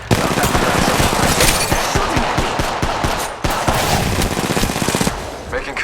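Rapid, dense automatic gunfire in an Apex Legends Mobile match, loud and continuous bursts with brief pauses, a game voice calling out over the shooting.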